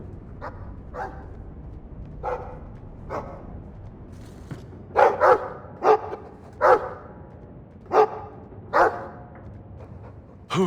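Small puppy barking in Dragon Age 2, first a few soft yips, then a run of sharper, louder barks spaced about a second apart over a quiet background, with no talk.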